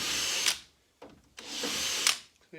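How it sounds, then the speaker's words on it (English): Power drill with a 3/16 bit clearing silicone-clogged holes in a Land Rover Series 1 door panel, whirring in two bursts of about half a second each with short pauses and small knocks between, close and alone. "Going along with the 3/16 drill bit, clearing all those holes."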